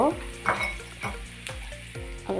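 Chicken pieces fry in spicy masala in a pan for a chicken masala fry. A loud close sizzle is broken by regular scraping stir strokes, about two each second.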